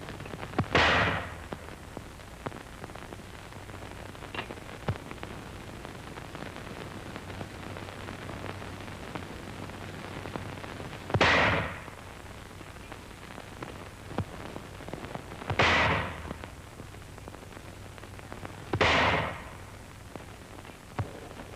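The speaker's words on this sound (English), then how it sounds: "Here the crew is firing the 7-pound anti-personnel shell." Four sharp artillery reports from a crew firing a 7-pound anti-personnel shell in World War II infantry training, each a loud, abrupt blast separated by several seconds of low steady background hiss.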